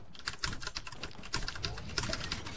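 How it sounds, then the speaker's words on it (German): Rapid clattering keystrokes from a whole computer keyboard come through a voice chat during a Fortnite match, quick uneven bursts of clicks at moderate volume with faint background noise. "man hört deine gesamte Tastatur"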